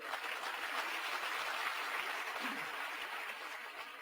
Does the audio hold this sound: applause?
yes